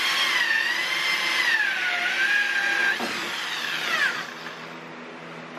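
A power drill bores into a DIY makeup vanity mirror frame, its motor whine holding steady and then sliding in pitch as it drives through a pre-drilled hole, continuous and close for several seconds, easing off near the end.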